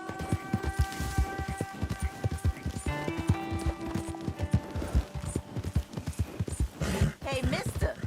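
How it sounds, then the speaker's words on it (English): Horse hooves clip-clop in a steady, quick rhythm inside a video game, running continuously over sustained musical tones, with a brief whinny-like sound near the end. "that's one nice-looking horse you got there"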